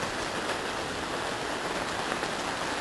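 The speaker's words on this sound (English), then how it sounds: "Water's flowing through." Steady broadband rushing of irrigation water flowing indoors, continuous and fairly close, with a rain-like hiss and no talking.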